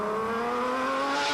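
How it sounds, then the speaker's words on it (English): Seat V6-powered T3 Schlesser Special rally car driving off, a steady engine drone with harmonics rising slightly, loud and close throughout. "off they go together in the T3 Schlesser Special with Seat V6 power"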